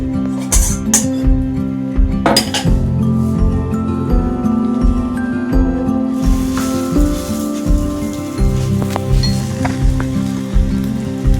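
Paratha frying in a pan, a loud, steady crackling sizzle close up with scattered sharper pops, continuing without talk.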